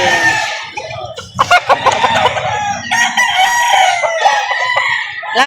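A White Kelso rooster at a poultry market in Lipa, Batangas crows loudly and close by in one drawn-out call, with clucking and other fowl around it and no talk.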